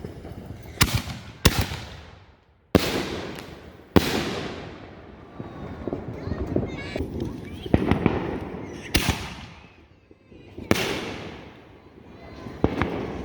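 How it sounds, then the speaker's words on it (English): Backyard 5-inch Barely Legal fireworks at a Fourth of July show fire in a rapid series of sharp, loud cannon-like booms. Each blast fades into crackle, with faint voices between the shots. "those 5-inch Barely Legals just shoot off like a cannon"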